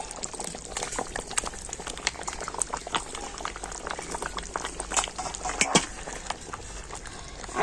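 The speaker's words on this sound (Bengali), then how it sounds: "চিকেনটা কিন্তু খুব ভালো মতো সিদ্ধ হয়ে গেছে" Chicken and potatoes bubbling at a steady boil in a pot of biryani, a continuous close wet burble with frequent small pops and no voices.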